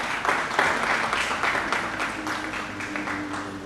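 Audience applause at a carnival press conference, a burst of many hands clapping that starts strong and slowly tapers off over a few seconds, with no speech over it.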